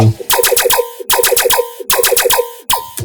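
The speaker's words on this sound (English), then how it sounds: "this is a additional laser-based layer" A dubstep laser bass synth layer: punchy electronic stabs with bright, zapping laser-like sweeps, played in repeating rhythmic bursts with short gaps, loud and alone with no voices.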